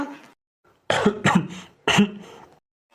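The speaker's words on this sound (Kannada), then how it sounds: "ನೋಡಲಿ ಪಾಪ ಅಜ್ಜಿ ಹೆಂಗೆ ಕೆಮ್ಮತೈತೆ" A cartoon grandmother coughs in three harsh, raspy bursts close up, after a short throaty sound at the start.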